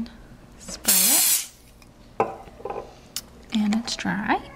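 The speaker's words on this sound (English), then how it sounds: "And then spray it" Short hissing spray bursts from a nail-strengthening spray on nail wraps, one long and a few shorter, mixed with light handling clatter and brief murmuring.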